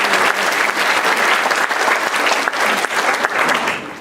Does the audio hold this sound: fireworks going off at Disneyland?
no